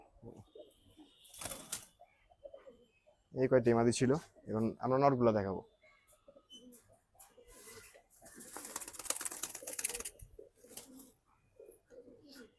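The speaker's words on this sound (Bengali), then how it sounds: "কবুতর আমরা উড়াবো" Pigeons at a loft in Hazaribagh, Dhaka, coo in a few rhythmic bursts near the microphone, amid brief wing flutters and scattered rustling, while someone talks at intervals.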